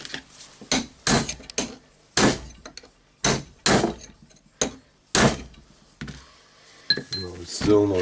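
Hammer blows knocking a part out of a Hilti TE905-AVR breaker during disassembly, about ten sharp metallic strikes in an uneven rhythm, close and loud, with brief ringing tones near the end.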